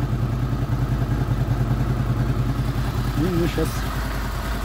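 A Honda VFR800 VTEC motorcycle engine idles after its first start, warmed to 43 degrees, with a steady, close, rhythmic throb and someone speaking briefly over it near the end.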